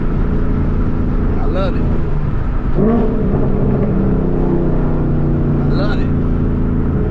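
A 2014 Ford Mustang GT engine with about 20,000 miles holds a steady, close rumble, with a couple of brief rising revs. Someone talks over it.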